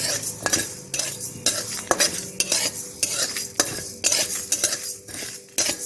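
A utensil scrapes and clinks against a dry pan in steady repeated strokes as whole cumin seeds and a dried chilli are stirred and roasted without oil; close by, with no talking.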